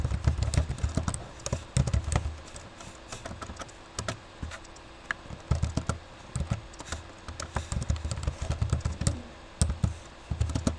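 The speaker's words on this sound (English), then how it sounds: "And then we just type the subject." Rapid, uneven tapping on a computer keyboard while an email subject line is typed, with close, fairly quiet clicks arriving in short bursts and brief pauses.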